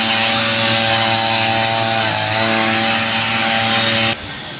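String trimmer with nylon line cutting grass, a loud, steady high-revving engine drone running continuously, then dropping off sharply near the end as the throttle eases.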